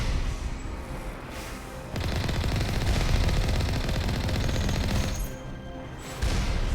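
Automated turret gunfire in the Mass Effect Legendary Edition video game, a dense continuous rattle of rapid shots that swells for several seconds with no talking.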